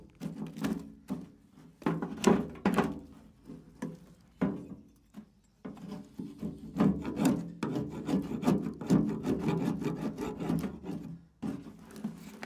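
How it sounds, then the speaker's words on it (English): A scraper rasps along a wooden beehive frame, clearing stuck wax and propolis in repeated close, gritty strokes with occasional knocks of wood, no voices. "I then scrape all the wooden bits of the frame to remove wax and propolis that's stuck to the wood."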